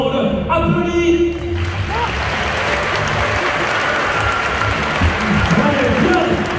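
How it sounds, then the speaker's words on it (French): A large crowd applauds at a Gauls-versus-Romans show at Parc Astérix, a broad sustained wash of clapping that swells after an announcer's voice at the start and carries on loudly to the end. "Tout le monde applaudit."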